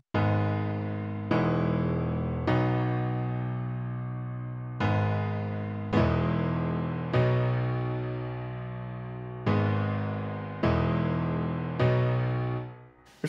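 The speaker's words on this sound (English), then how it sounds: "It's a Maverick piano by Native Instruments and a Noir piano by Native Instruments" Layered Native Instruments Maverick and Noir virtual pianos play a slow outro of sustained chords, each struck about every one to two seconds and left to ring and decay, alone with no talk.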